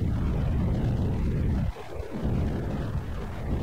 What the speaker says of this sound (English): Now we're increasing throttle of the X-15.